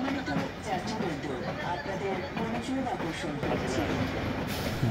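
The Nilsagar Express rolls into platform 7 at Dhaka railway station, its low rumble and clatter steady beneath a voice talking over it.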